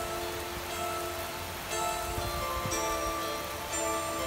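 Heavy monsoon rain falls in Thailand as a steady, dense hiss of drops on surfaces, continuous and moderately loud throughout, with no voices.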